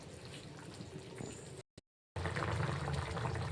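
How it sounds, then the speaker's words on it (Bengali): Pabda fish curry in a spicy mustard-oil gravy bubbles in a pan, a steady close simmering hiss and fizz that briefly cuts out before resuming, with no talk. "মাছটা দেওয়ার পর এভাবে ফুটছে"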